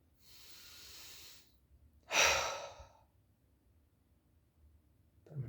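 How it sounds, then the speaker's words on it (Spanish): A slow, deep breath taken with one hand on the chest and one on the stomach: a soft, drawn-out inhale followed by a louder, breathy exhale, close and quiet, then a brief start of another breath. "colocar una mano en el pecho y otra en el estómago y hacer una respiración profunda"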